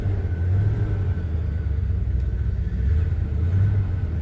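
Engine of a 1978 Chevy C10 pickup truck running, a steady low rumbling idle with slight swells in the bass, close and continuous, no voices.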